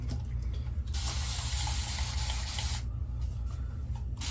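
Water sprays steadily from a sprayer to wet a head before a wet shave, a close, continuous hiss running about two seconds before cutting off, with faint mechanical clicks beneath.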